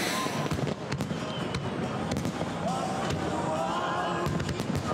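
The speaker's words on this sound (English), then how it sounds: "you would have loved the fireworks show in Nanaimo" Rapid bursts and crackling pops of a fireworks show in Nanaimo, British Columbia, going off one after another, dense and loud, with faint crowd noise beneath.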